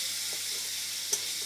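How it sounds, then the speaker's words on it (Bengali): Onions sizzle in hot oil in a pan, a steady broadband frying hiss at low level with no talk. "পেঁয়াজটা ভাজা হচ্ছে।"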